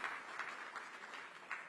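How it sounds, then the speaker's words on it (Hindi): An audience at the Rising Bharat 2026 event applauds a session, a dense wash of many hands clapping at a steady moderate level throughout. "जोरदार तालियों से अभिनंदन करिए इस सेशन का"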